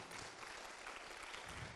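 Steady applause from an audience at the Geneva book fair, a dense wash of clapping hands sustained throughout at a moderate, even level.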